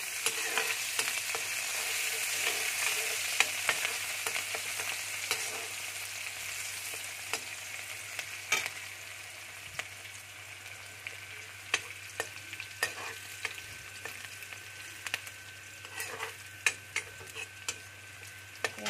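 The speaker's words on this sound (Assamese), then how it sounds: "তেল গৰম হৈ আছে আৰু পিঁয়াজ ৰঙা হ'বৰ কাৰণে বেছি টাইম নালাগে" Onions and chopped ginger fry in hot oil with a continuous bright sizzle, punctuated throughout by sharp scraping and tapping from a stirring spoon against the pan, close and steady with no talk.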